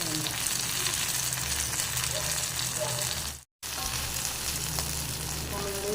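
Murrel fish pieces coated in masala frying in a pan on a stove over medium flame, a loud dense continuous sizzle heard up close, briefly cutting out for a moment midway.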